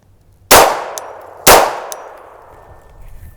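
Two loud, sharp Glock pistol shots fired about a second apart through a blunderbuss muzzle device, each with a ringing, clanging tail that fades quickly into quiet.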